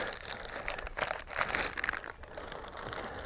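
A plastic bag crinkles and rustles around a rear brake pivot part for a BSA B31/B32/B33/B34 motorcycle being built from parts, close, continuous handling noise with sharper crackles, no talking.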